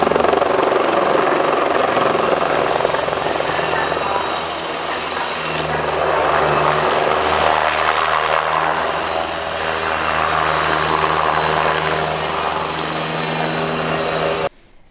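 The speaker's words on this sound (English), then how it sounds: "the Tiger is the second and the most recent attack helicopter to emerge from Western Europe" Eurocopter Tiger attack helicopter in flight, its turbine whine and steady rotor throb loud and continuous throughout, cutting off abruptly at the end.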